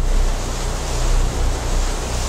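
Powerful river water rushing during a team crossing on foot, a loud, steady, dense roar that fills the whole stretch with no break.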